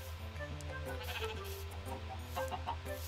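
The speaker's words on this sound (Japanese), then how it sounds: "羊が一匹。 はい、はい、羊が二匹。" Minecraft sheep bleating in a game farm pen, several wavering bleats overlapping at a moderate level over soft background music, with no talk.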